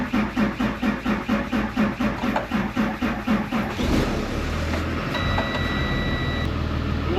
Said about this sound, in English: now I just gotta sit here with my foot on the gas, let the diesel run through the system